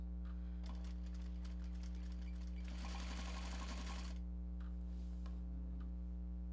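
A sewing machine stitches a Japanese fabric bag in a rapid mechanical chatter that rises to a dense run mid-clip, then slows to a few single stitches over a loud, steady electrical hum.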